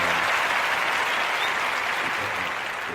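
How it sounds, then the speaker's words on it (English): A dense wash of applause from a large crowd, steady and loud for the whole stretch, fading only slightly toward the end. "give a round of applause for that."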